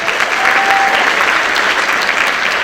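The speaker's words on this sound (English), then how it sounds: "let's clap for him" Loud, dense audience applause fills a high school band concert hall, a steady continuous roar of many hands clapping with a faint whoop or whistle.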